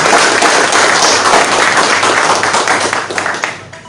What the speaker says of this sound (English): And I want us to give her a big round of applause.